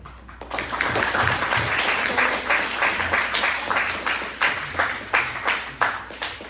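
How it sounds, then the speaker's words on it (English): A round of applause from a STEM discussion panel audience for the host, dense clapping that builds and then thins into scattered individual claps toward the end, no voices. "I'd like us all to give a huge round of applause to John, our host here"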